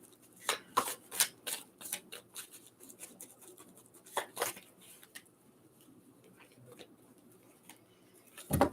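Tarot cards shuffled by hand in bursts of crisp riffling and soft flicks, loudest early on, then sparser quieter handling and a final flurry of riffles; nobody speaks.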